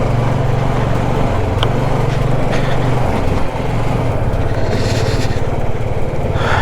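A motorcycle engine runs steadily and loudly throughout on a solo winter bike ride from Delhi toward Gangotri, with a low droning rumble and some wind noise and no talk.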